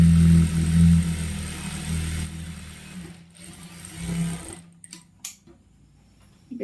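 Sewing machine stitching a chudidar seam, its steady motorised whir running for a couple of seconds, then dropping off into quieter stop-start bursts near the end.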